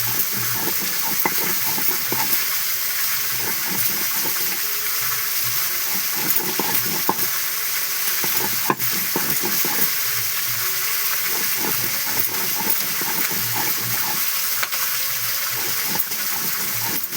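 Fish frying in a pan of hot oil for a Bengali mustard fish dish, a steady close sizzle with scattered crackles and pops running throughout, no voices.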